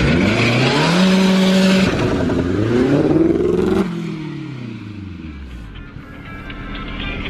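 An AWD Honda holds a steady buzzing rev on two-step launch control, then drops into a burnout with the engine surging and wavering through repeated rises and falls, loud and near.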